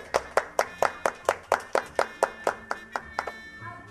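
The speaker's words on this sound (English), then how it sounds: "I want to give yourselves a big round of applause." Children clap together after a story session, a round of roughly a dozen sharp, fairly regular claps in close succession that fade out near the end, close and clear with no talking.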